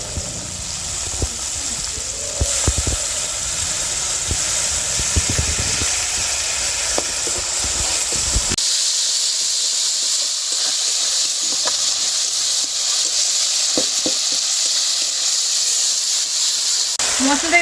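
Yogurt going into hot oil and spices in a biryani pan for jackfruit biryani, a steady hiss and sizzle running throughout, louder and fuller early on, then a cleaner continuous frying hiss.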